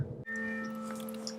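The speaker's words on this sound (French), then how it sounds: "Ce que l'on entend, la cloche sonner" Church bell of St Pierre Lamy ringing, a steady sustained tone that starts abruptly after a brief moment and holds evenly, fairly faint and alone without talk.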